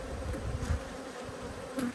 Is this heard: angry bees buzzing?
yes